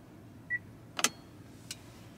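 Electric parking brake of a Toyota Roomy engaging: a short faint electronic beep, then a brief motorized whir-click inside the quiet cabin, with a softer click shortly after.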